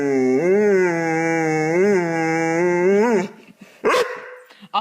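A pet dog gives a long, loud vocal howl-bark with rising and falling pitch, sustained for about three seconds, followed by a short yip; a person speaks nearby around it.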